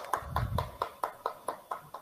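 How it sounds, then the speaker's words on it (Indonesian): A classroom gives a student several slow, evenly spaced hand claps, about eight distinct sharp claps in two seconds, fairly quiet with a faint murmur of voices early on. "Beri tepuk tangan untuk Teh Siti."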